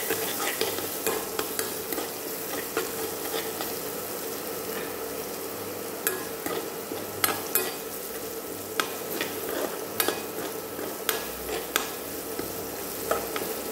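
Ginger garlic paste fries in a pan as it is stirred, giving a continuous close sizzle broken by scraping strokes from the stirring, with no talk.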